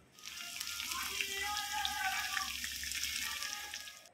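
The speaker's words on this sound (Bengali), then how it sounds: "তো তাই এই যে ভাজা চলছে" Rotis frying in a pan, a continuous soft sizzle heard faintly at a distance, steady throughout with a low background hum and no clear talking.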